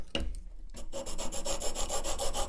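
Oiled blade drawn back and forth on a sharpening stone to hone a slight micro bevel, producing close, rhythmic rasping rubs in quick repeated strokes after a brief pause, with no talking.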